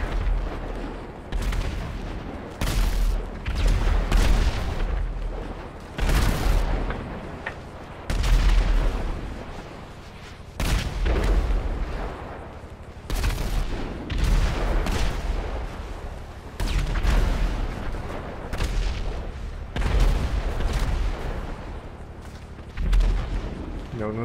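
Missiles and gunfire in a video game, loud repeated booming blasts in irregular bursts every few seconds, dense and close throughout with no gaps of quiet.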